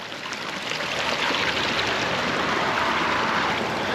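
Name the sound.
small freshwater stream flowing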